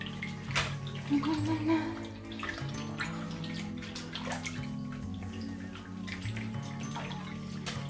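A plush bunny toy is worked in a basin of water with detergent, with splashing, sloshing and dripping close by and faint voice sounds now and then.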